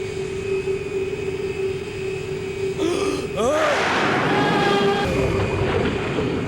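An airplane engine drones steadily and loudly throughout, with a short swooping whistle midway as the rumble swells slightly.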